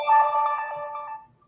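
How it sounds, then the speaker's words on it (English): A loud phone notification tone rings out alone during a podcast recording, a sustained bright chime lasting about a second before cutting off into silence. "that's the extremely loud notification thing on my phone"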